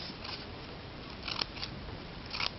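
Scissors snip through a paper towel roll tube to cut it into fringe, giving a few short, crisp cuts spaced irregularly, fairly quiet and close, with no talking.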